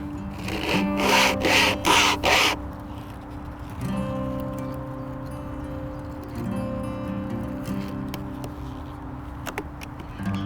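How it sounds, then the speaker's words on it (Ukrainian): A few quick rasping strokes of a cheap survival-kit wire saw through wood, then the cutting stops as the saw binds and a steady background hum continues. "зараз я просто хочу перевірити, наскільки якісна дротяна пилка з набору за 30 доларів для виживання"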